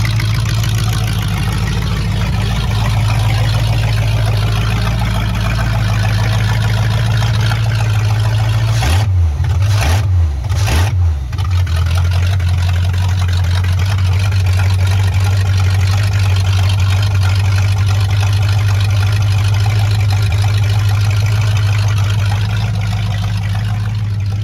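Oldsmobile Cutlass engine running at a steady, loud idle with a deep low rumble throughout, briefly interrupted by a few quick blips or stutters partway through.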